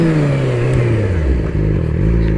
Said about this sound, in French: Je vais vous faire un petit freinage d'urgence.